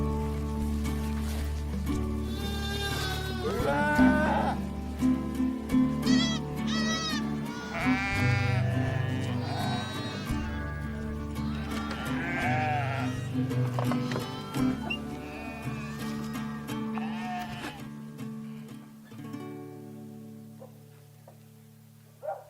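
Herd of cashmere goats on the Mongolian steppe, many animals bleating and calling over one another in a dense, overlapping chorus, near and loud, fading toward the end.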